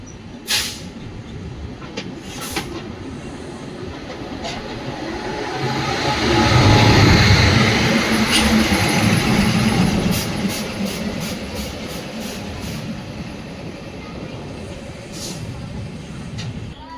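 The Talaguppa–Mysore Intercity Express with new LHB coaches runs along the track near Anandapuram railway station, its continuous rumble swelling midway, with sharp rail clicks and clatter cutting through the steady roar.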